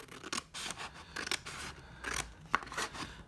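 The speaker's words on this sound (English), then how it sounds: "I've just cut it with some scissors" Scissors cut a paper page in half for a handmade bug-themed journal, a run of close, crisp snipping strokes in quick irregular rhythm, heard alone without talk.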